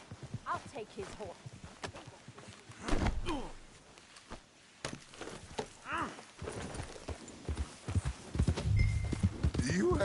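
Horse hoofbeats clop along in a steady rhythm beneath frequent talking in Red Dead Redemption 2, with a few sharp thuds and louder bursts of movement partway through.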